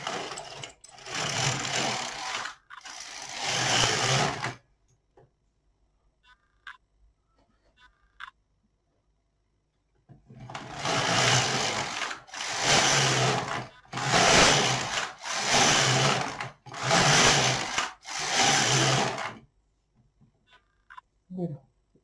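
A domestic knitting machine carriage runs rows of waste yarn for a polo-neck sweater front, giving loud rhythmic mechanical whirring passes in repeated bursts separated by quiet pauses, with faint clicks between.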